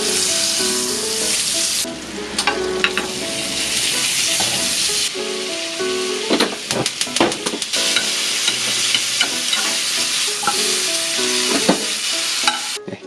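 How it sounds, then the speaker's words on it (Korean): Broccoli stir-fried in butter in a pan for a child's lunchbox, a steady close sizzle with scraping stirs, over background music throughout. "그래서 어린이들이 좋아하는 버터를 가지고 버터 볶음을 해줄 거예요."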